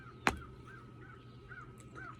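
A single loud crow caw rings out close by, sharp and brief, followed by quiet background hum and a few faint distant bird calls.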